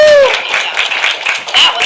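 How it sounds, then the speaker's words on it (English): An audience applauds children at a Baptist church vacation Bible school, a dense patter of clapping over about two seconds with a brief whistle and a little light laughter. "Let's give them a round of applause."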